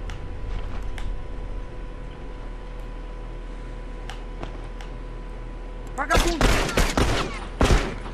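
Gunfire in The Last of Us online multiplayer match: after a quiet stretch of faint game ambience, a sudden close burst of rapid shots breaks out, then another short volley, with a player talking in Portuguese.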